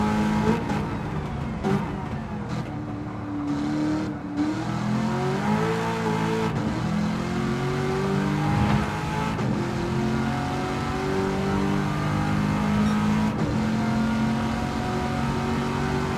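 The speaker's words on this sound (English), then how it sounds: "Nice engine sounds from that Corvette." A Corvette GT2 race car engine in the video game Gran Turismo 7 drones continuously during an endurance race, its pitch climbing and dropping through gear changes, loud and steady with no voices.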